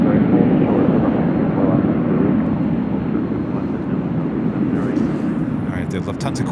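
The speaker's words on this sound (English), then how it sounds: "We'll concentrate on the Delta A321 taking off on 24 left, and she will do a bank left-hand turn" A Delta A321 jet takes off from runway 24 left at LAX, a broad steady engine roar heard from a hotel rooftop, with thin hiss growing near the end and a voice talking over it.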